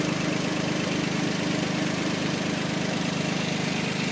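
A Daihatsu car's 12-valve DOHC engine idles steadily and loudly close by, a constant even rumble with a fine rapid pulsing and no talking.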